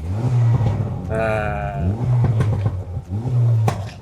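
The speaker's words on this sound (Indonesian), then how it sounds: "Sekarang kita masuk sport mode. Ini jadi exhaust burble aja ya." A Honda Civic Type R FL5 in sport mode idles and revs in short bursts, its exhaust popping and burbling loudly and up close between blips, with a brief spoken word.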